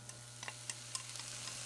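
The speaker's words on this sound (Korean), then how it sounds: "올리브유 1숟가락, 양파, 그리고 김치를 넣고 볶아줍니다" Kimchi and onion stir-frying in a spoonful of olive oil, a quiet, close sizzle with light crackles and small ticking spatula taps over a low steady hum.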